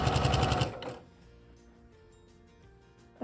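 A sewing machine stitches fabric in a straight line for a quilted car seat poncho, running as a loud, steady rapid whir for about half a second before stopping, followed by quiet handling.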